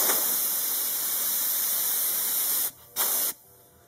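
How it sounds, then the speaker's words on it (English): A sustained hissing spray of water-based adhesive onto springs and a foam rail runs steadily, breaks off briefly, gives one short burst, then stops. "we're going to spray down a bunch of more of our water-based adhesive"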